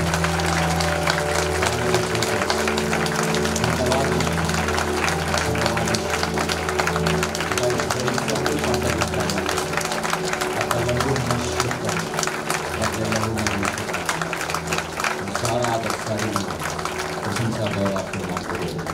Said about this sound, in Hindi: ताली बजा कर उसका स्वागत करें।